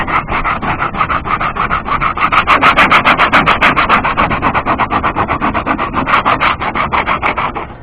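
Aggressive sandpaper scrubs a Hurricane Phoenix 160 kayak in rapid, rhythmic back-and-forth rasping strokes, loud and close with no voices.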